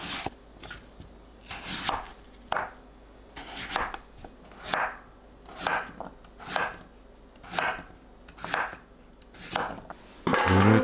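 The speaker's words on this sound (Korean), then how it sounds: "10cm 길이로 큼직하게 나누고 납작하게 썰면 돼요." A knife slices a radish into flat pieces on a cutting board, about ten close, crisp chops landing in a steady rhythm, with quiet gaps between and a louder clatter at the end.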